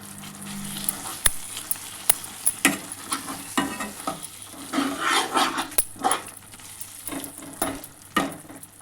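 A spoon stirs bitter gourd curry with onion, garlic and chili paste in a pan, scraping and clacking in irregular bursts over a soft sizzle, close and fairly quiet.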